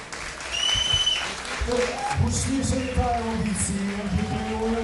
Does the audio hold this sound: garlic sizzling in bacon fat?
no